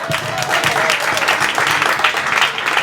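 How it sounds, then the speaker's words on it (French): Guests at the evening wedding celebration for Marlyse and Marcel give a thunderous round of applause, a thick, sustained crowd clapping with a faint held tone running beneath it. "merci encore d'offrir un tonnerre d'applaudissements à Marlise et Marcel ce soir"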